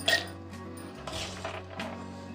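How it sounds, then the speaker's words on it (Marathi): Dry chana dal is tipped into a steel mixer jar, giving a few soft rattling pours and a light metallic clink up close, faint and brief in a quiet kitchen. "डाळ वाटण्यासाठी मी इथे मिक्सरचे भांडे घेतले आहे त्यात आता आपण डाळ टाकून घेऊ"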